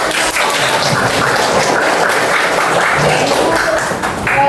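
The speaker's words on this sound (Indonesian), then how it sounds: "Selamat beri tepuk tangan." Audience at a classroom training session applauding, dense continuous clapping that stays loud and close for the whole stretch, with a faint voice here and there.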